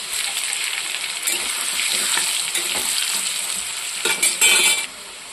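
Potatoes seasoned with salt and turmeric fry in a pan, a steady close sizzle with a few louder bursts of stirring and scraping near the end.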